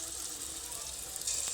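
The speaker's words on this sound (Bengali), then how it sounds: "এবার গুলগুলি তেলের মধ্যে একে একে ছেড়ে দেব" Palm fruit fritter batter balls fry in hot oil in a wok, a soft, steady sizzle heard faintly and briefly with a slight rise near the end.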